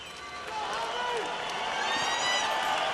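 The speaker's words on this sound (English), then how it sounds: "The crowd getting excited about this man, Sultan Ibragimov" A heavyweight boxing arena crowd at the Evander Holyfield vs Sultan Ibragimov fight holds a steady, excited roar and cheer, while a commentator talks over it.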